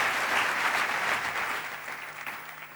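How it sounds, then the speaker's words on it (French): Church congregation applauding together after a sermon blessing, a steady dense wash of clapping that stays loud throughout and tapers only slightly near the end. "Acclamez pour vous-même."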